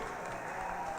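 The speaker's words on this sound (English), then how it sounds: "Let's give them all a big round of applause once again." Graduation ceremony crowd applauding the class of 2022, a faint, distant wash of continuous clapping.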